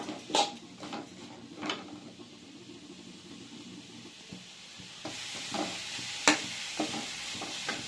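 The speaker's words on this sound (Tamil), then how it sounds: "இப்போ லைட்டாக வதக்கி எடுக்கிறேன்" Vegetables and capsicum lightly sautéing for pickle, with a soft, steady sizzle under a spoon scraping and tapping the pan at irregular moments, close by and with no talk.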